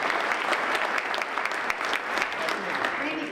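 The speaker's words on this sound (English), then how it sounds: "Round of applause for David." Rotary Club meeting attendees give a sustained round of clapping for a committee chair, steady and close with no pauses.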